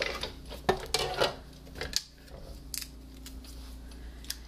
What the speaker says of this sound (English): I'm going to run this through to cut my first flower